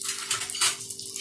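Splashing and bubbling water as beef tripe is lowered into a pot of boiling water on the stove, a brief, close burst of sloshing with faint metallic clinks.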